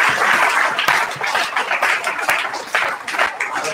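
A church congregation in Varanasi breaks into sustained applause during a Hindi sermon, dense overlapping claps rising and falling steadily for several seconds with no voices on top.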